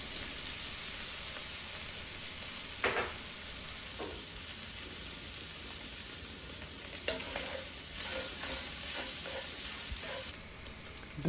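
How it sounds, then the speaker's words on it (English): Browned sausage and flour sizzle in a pan as they are stirred together for gravy, a steady frying hiss broken by a few scraping stirs of the spoon, close and alone without talk. "Once sausage has browned, add 2 tablespoons of flour, mix and cook for about a minute."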